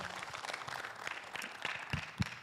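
A church congregation claps for the Lord at a Spanish-English service, a loose patter of hands with a few sharper claps rising near the end while murmured voices sit faintly underneath.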